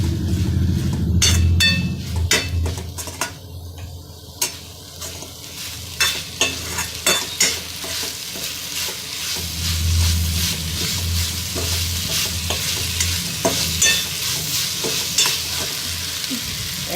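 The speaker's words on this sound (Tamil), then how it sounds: "அதுக்கப்புறம் மிளகாய் உள்ளே போடுறேன். மிளகாய் கொஞ்சம் வதங்கட்டும்." Chillies sautéing in hot oil in a pan for a groundnut vegetable gravy, with a steady sizzle and frying crackle throughout and repeated metal spatula stirring clinks and scrapes close by.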